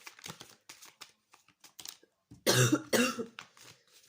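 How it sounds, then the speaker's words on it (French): A couple of harsh coughs burst out close to the mic, preceded by a stretch of faint rustling and clicking. "je tousse encore, mais ça va mieux"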